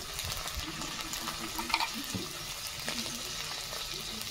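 Chilli and turmeric powder fry in a pan with a soft, continuous sizzle and crackle. A few stirring scrapes stand out, and there is no talking.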